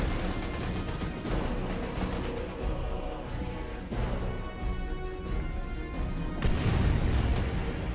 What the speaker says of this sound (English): Launch a grenade.